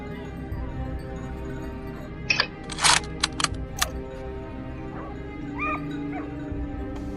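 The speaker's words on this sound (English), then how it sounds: "As the barking grew louder," Hunting dogs bark while driving a herd of wild boars uphill on a slope, a few sharp yips and barks in a cluster over a low steady outdoor rumble, with whimpering calls trailing after.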